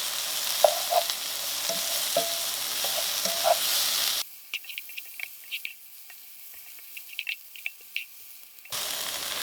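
Pork stir fry with garlic cooking in a pan, a loud close sizzle with stirring clatter at first, then a quieter stretch of scattered spatters and utensil taps before the sizzle returns.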